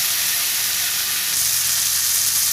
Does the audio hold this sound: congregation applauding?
no